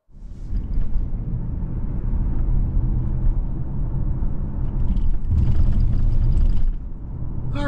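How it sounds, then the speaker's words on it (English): A 2025 Lincoln Corsair Reserve all-wheel-drive SUV driving on a road, heard from inside as a steady low road and engine rumble that swells slightly toward the end, with no talking. "we're out on the road in this 25 Corsair Reserve 2 all-wheel drive"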